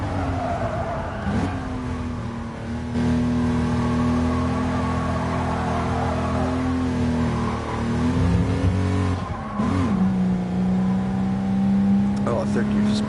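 A 1960s British four-speed car with a tan interior in GT Sport, its engine bogging in third gear: a steady, labored drone that sags and dips in pitch, with someone talking over it.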